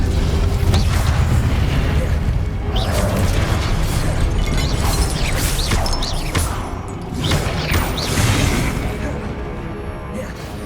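Confringo explosion spell in Hogwarts Legacy combat, heard as repeated booming blasts and crashing bursts within a dense, loud game mix of clattering effects and music.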